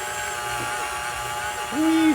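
An electric mixer beats butter and sugar into cookie dough in a steady, close motor drone, its pitch rising and whining toward the end.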